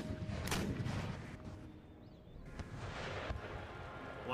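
Foot artillery cannons fire in the battle game Empire Total War, giving a few distant booming shots over a low battlefield rumble.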